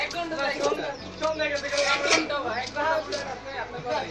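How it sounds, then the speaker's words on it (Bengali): Pet pigeons kept in a coop coo in soft, repeated throaty phrases close by, overlapping one another, while a person talks quietly over them. "দেখলেন তো কবুতর গুলো।"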